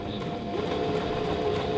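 An Oekaki sewing machine stitches a buttonhole with a buttonhole jig, giving a soft, continuous mechanical hum and faint rhythmic clatter heard close up without speech.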